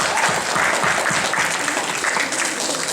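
At a Tamil school event, an audience applauds for a young instrument player with loud, dense, continuous clapping that fills the room evenly from start to finish.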